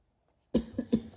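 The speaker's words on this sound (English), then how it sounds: "excuse me, I have a little cough." Silence, then a short burst of three quick coughs close to the listener, the first loudest.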